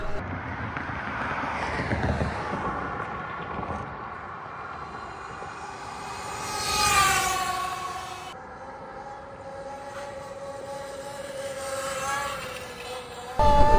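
A 2024 Pro SS electric bike at full throttle, a rising and falling motor whine with high electric tones sweeping up as it accelerates and passes, steady loud drone with wind rush throughout.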